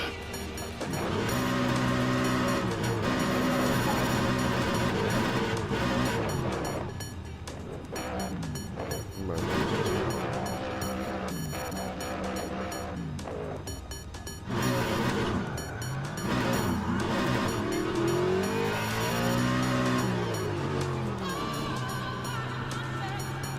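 Race cars roll through a formation lap in the racing game Le Mans Ultimate, steady engine drone with rising and falling revs under a talking voice for most of the stretch.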